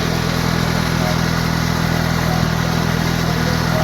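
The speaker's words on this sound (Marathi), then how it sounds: "खालच्या चाकावर आहे डायरेक्ट मोटरसायकल" A motorcycle engine set up to drive a lower wheel directly, turning an upper wheel on a village machine, runs steadily with a low, even hum and drone throughout, close by and unbroken.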